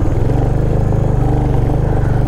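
A motorcycle on a road trip climbs a steep hill road in Mussoorie, its engine loud and close with a steady, throbbing, pulsing rumble.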